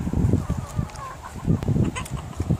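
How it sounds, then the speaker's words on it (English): Chickens clucking in an allotment coop among the runs, with soft broken clucks and murmurs coming in bursts at close range over faint outdoor background. "this allotment is for chickens"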